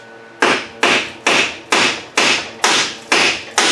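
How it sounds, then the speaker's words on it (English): A hammer strikes a Toyota Camry strut eight times in a steady rhythm, each metal blow loud, close and ringing briefly before the next. "we can break out a hammer. We can get this strut out."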